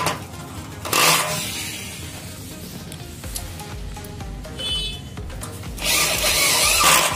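A power tool drives nut bolts into an aluminium door frame in loud bursts, with a whirring run near the start and another at the end, separated by quieter handling noise.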